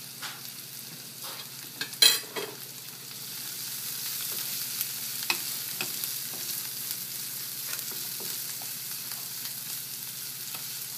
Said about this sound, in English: I'm going to sauté that until it's nice and translucent